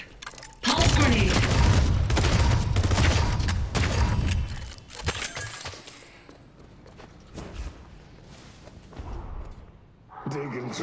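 A pulse grenade goes off in a StarCraft II Deadlock match, a dense loud burst of crackling blasts lasting several seconds, followed by scattered impacts and game noise.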